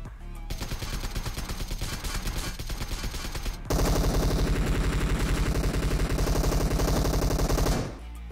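Rapid automatic gunfire in PUBG Mobile, sustained bursts of close, loud shots that grow denser and louder midway, running almost continuously for several seconds before cutting off.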